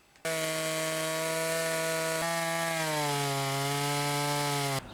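A chainsaw runs close and loud at a steady, buzzing pitch that drops and wavers about halfway through, then cuts off abruptly.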